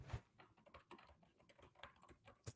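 Computer keyboard typing, a very faint patter of uneven key clicks with one sharper tap near the end, distant and quiet, with no voices over it.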